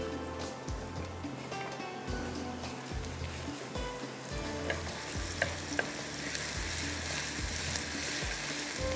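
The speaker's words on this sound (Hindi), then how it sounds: "चलें जी, प्याज को करते हैं अच्छी तरह से ब्राउन।" Onions browning in a pan with kasuri methi for achari aloo, a loud continuous sizzle and fry close by, broken by repeated scraping stirs and the odd clink of the spoon against the pan, with no talking.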